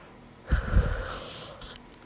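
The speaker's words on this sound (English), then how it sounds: "Now I'm yawning." A single close yawn from a man: a breathy, drawn-out intake that swells and fades over about a second, followed by quiet.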